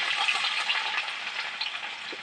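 Chopped onion, green chilli and black cumin fry in hot oil, a loud, dense, steady sizzle close up with a faint hint of stirring and no talk.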